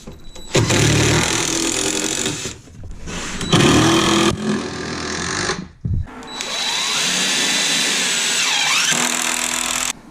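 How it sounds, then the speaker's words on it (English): A power drill drives pocket hole screws into wood while flooring is raised in a skoolie bathroom, with several loud whirring bursts separated by short pauses and a long final run that rises and falls in pitch. "Over here I'm just doing 1 pocket hole screw in the bottom, and then the rest is gonna be in the studs."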